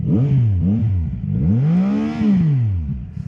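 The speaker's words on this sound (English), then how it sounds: "It's stock. It's good compared to other stock exhaust." A CFMoto 675 motorcycle on its stock exhaust revs up and down in several swelling blips, the engine note rising and falling close by, ending in a long high rev that drops away.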